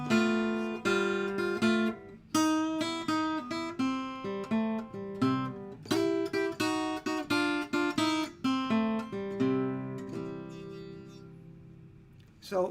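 A blues guitar line in C, played as a practice exercise, with plucked single notes and chords in a steady, lilting rhythm, close and clear throughout with no talking.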